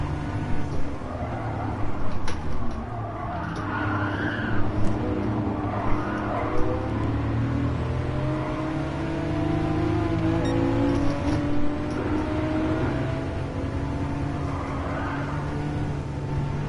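A Porsche 911 Turbo in fourth gear with a four-speed transmission runs in a racing game on the Nürburgring Nordschleife, a close, continuous engine drone with shifting pitch and a few sharp clunks early on.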